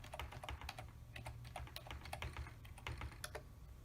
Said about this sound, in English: I just type in my password.